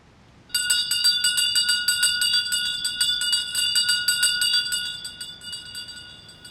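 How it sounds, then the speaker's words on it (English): Church bells ring in a Welsh colliery village: a bright, rapid run of overlapping metallic strikes starts abruptly, rings on steadily for several seconds, then fades out, with no voices over it. "the bells ring alone."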